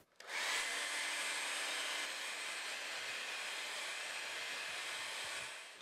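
A hair dryer blows steadily on a watercolour painting in a pen, ink and watercolour demonstration, switching on with a sudden rise and then holding a continuous, close, even airy whir for several seconds with no talk over it.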